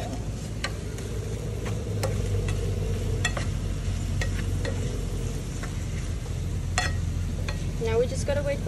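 Food frying in a pan with a little sugar added to caramelize, a low steady sizzle with scattered ticking pops and a few light utensil clicks, close and moderate.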